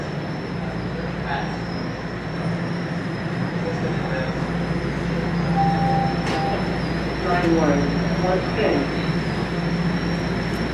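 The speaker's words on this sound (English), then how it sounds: "a northbound train is rolling in before the southbound train" A northbound subway train rolls into a busy Toronto station with a sustained rumble and a squeal of brakes. Crowd noise and voices continue throughout.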